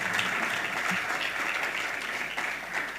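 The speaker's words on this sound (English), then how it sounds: "a round of applause for them again" Steady audience applause fills a ceremony hall as award recipients are honoured, a dense continuous wash of many hands clapping at even loudness throughout.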